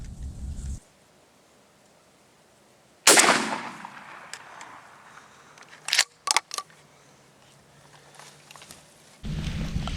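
A turkey shotgun fires one loud, close blast that rings out and decays over a couple of seconds, followed a few seconds later by several sharp mechanical clacks of handling the gun, in an outdoor setting.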